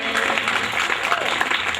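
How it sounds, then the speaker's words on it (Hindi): Audience applause at a community stage event held by a women's empowerment organisation in Delhi, a short burst of steady, close clapping from the crowd with some voices mixed in. "कृपया एक बार जोरदार तालियां"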